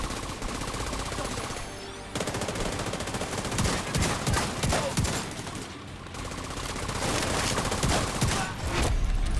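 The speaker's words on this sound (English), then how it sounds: "I'm just shooting the leaves off" Sustained automatic gunfire rattles through a video game battle, loud and close, with rapid overlapping bursts and brief pauses between volleys.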